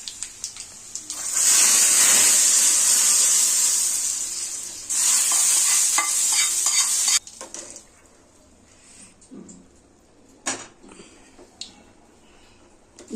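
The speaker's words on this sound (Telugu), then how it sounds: "వేగిన దాన్ని రసంలో కలిపేస్తాం" Loud sizzling of hot oil as a fried tempering hits tomato rasam, hissing strongly for several seconds, then fading to quieter stirring and clinks.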